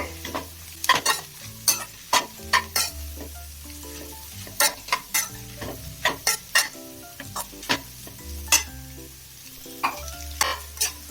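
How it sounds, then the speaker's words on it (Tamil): Vegetables for chicken fried rice stir-fry over a high flame with a steady sizzle, punctuated by about twenty sharp, rhythmic clanks of a spatula scraping and tossing against the pan. "அதனால ஒரு 2 நிமிஷத்துக்கு வதக்கிட்டா போதும். ஃப்ளேம் வந்து ஹைலியே தான் வச்சிருக்கேங்க"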